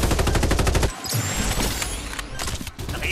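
Rapid automatic gunfire in the Farlight 84 battle royale game, a dense burst of rattling machine-gun shots, then a short break and more overlapping gunfire and mechanical clatter, loud and close throughout.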